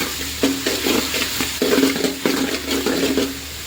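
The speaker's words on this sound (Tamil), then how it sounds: "டொமேட்டோ ஆட் பண்ணியாச்சு. இப்போ நெக்ஸ்ட்டு இதை நல்லா வதக்கிக்கணும்" Tomatoes sautéing in a pan, a soft sizzle broken by a run of scraping stirs that come in bursts of roughly half a second, close and moderately loud, with no voice.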